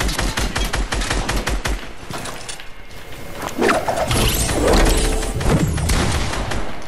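Rapid bursts of video game gunfire from a squad-based shooter, a dense run of sharp shots for about two seconds, then scattered louder blasts and booms that carry through the rest of the clip, with no talking.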